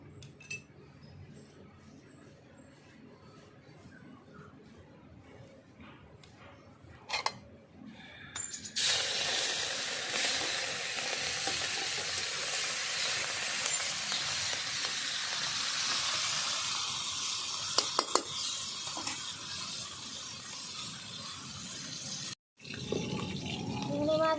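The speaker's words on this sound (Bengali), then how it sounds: "তেল গরম হয়ে গেছে চিংড়ি মাছটা প্রথমে আমি ভেজে নেব" Prawns coated in salt and turmeric frying in hot oil, a loud steady sizzle that bursts in partway through and holds, with light utensil clinks and a brief drop near the end.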